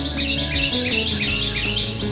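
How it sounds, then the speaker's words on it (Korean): Birds chirp and tweet steadily in a pine forest in the morning on Gamaksan mountain in Gyeonggi-do, Korea, several calls overlapping at close to moderate distance with no talking. "새소리에 아침 일찍 일어나"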